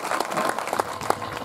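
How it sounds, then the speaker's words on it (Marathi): Audience applause at a Marathi kirtan, a brief burst of hand claps from the gathered listeners, moderately loud with a few sharper claps standing out near the end. "जोरदार टाळ्या वाजवायचा."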